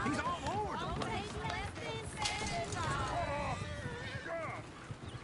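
Horses in the Red Dead Redemption 2 game, with busy hoofbeats and a whinny running under excited voices and a steady layer of in-game noise.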